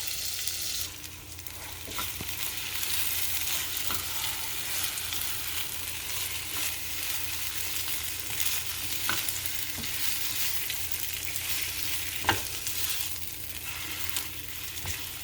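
Semolina vada mixture fries in butter in a pan over low heat, giving a steady, soft sizzle throughout with occasional stirring scrapes and faint clicks.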